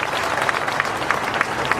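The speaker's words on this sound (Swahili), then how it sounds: "Pigieni makofi moja Kimani Ichung'wah" Crowd at a political rally applauding for Kimani Ichung'wah, dense and loud clapping throughout a short burst.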